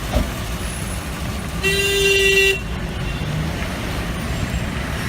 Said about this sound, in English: And they honk at you, say, hey, get out of my way.